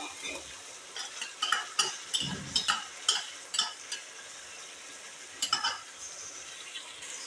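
Onions, green chillies and ginger-garlic paste are stirred in a frying pan, a soft sizzle under repeated scraping and clinking of a spoon against the pan, steady and close.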